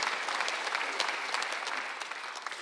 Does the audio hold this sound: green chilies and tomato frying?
no